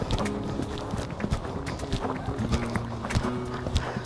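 A horse gallops uphill during a riding session, its hoofbeats thudding in a quick, uneven rhythm over a steady rumbling background, moderately loud and close, with no clear talk.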